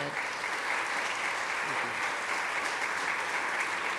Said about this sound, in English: I would like to give our speakers one last round of applause